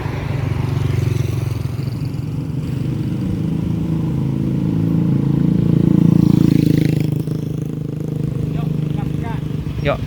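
A motorcycle on a mountain road with hairpin bends runs with a steady low engine drone that swells and fades slightly, close and loud, with a faint voice or two over it.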